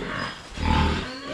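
Pigs grunting and snuffling close by, short low rumbling grunts over a steady background hiss.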